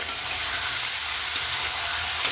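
Paneer frying in hot oil, for a hotel-style paneer masala, gives a steady, dense sizzle that holds evenly throughout, with a couple of faint brief pops and no voices.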